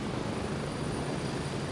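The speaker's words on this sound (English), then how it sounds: "Give me that helicopter." Steady broadband rotor and engine roar from a helicopter in the military shooter game Gray Zone Warfare, loud and continuous with no pauses, filling the whole moment without any talking.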